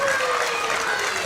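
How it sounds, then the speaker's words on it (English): A wrestling crowd in LaSalle applauds steadily throughout, a dense continuous wash of clapping and cheering with commentary voices over it. "Crowd here in LaSalle is trying to rally behind the inevitable one, Ace Austin."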